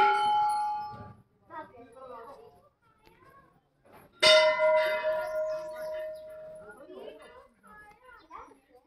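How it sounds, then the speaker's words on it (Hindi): Metal bells ring at the Chitai Golu Devta temple in Almora, Uttarakhand, where devotees tie up many bells; a loud clang strikes midway and rings on, with fainter tones at the start, among people talking nearby. "चारों तरफ से घंटी ही घंटी है।"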